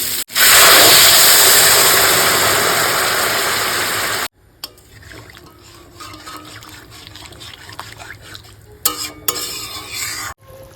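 Warm water hits frying spice masala with potatoes and cauliflower in a fish curry pan, giving a loud burst of hissing sizzle for about four seconds that drops to soft bubbling and occasional stirring clinks.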